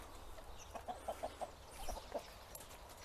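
Free-range farm chickens cluck softly in a short series of quiet, close calls over a low background hum.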